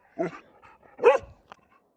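Two sharp dog barks close by, about a second apart, followed by a tiny yip in an otherwise quiet setting.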